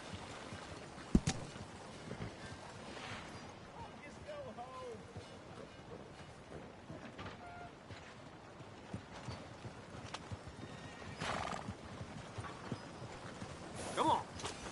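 Horse hooves clip-clop steadily through the open world of the game Red Dead Redemption 2, a rhythmic, moderately close beat over low rumbling ambience, with a voice calling out to the horse now and then.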